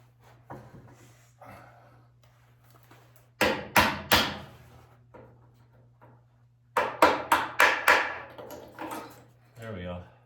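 A hammer taps a loose metal part on a home-built diesel electric submarine, first in a quick pair and then in a rapid run of five or six sharp strikes, with talk heard before them.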